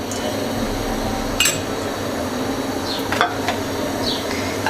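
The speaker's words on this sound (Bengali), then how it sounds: "আমি এখন একটি গরম পাত্রের মধ্যে ঘিটুকু দিয়ে দিচ্ছি।" Ghee melting in a hot pan for carrot halwa, a soft steady sizzle with a few sharp clinks of a utensil against the pan, close and fairly quiet with no talk.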